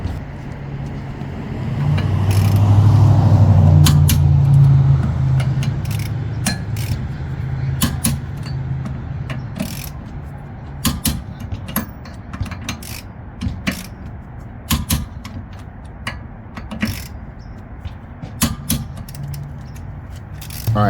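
A torque wrench tightens the nuts on a wheel adapter plate to 90 foot-pounds, first with a louder low mechanical grinding stretch, then a series of sharp ratcheting clicks and clacks at irregular intervals, close and distinct.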